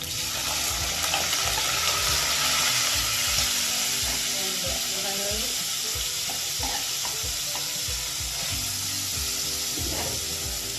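Deboned, scaled saltfish sizzles and fries in hot oil in a pot, a steady close crackle with scattered pops and clinks of stirring throughout.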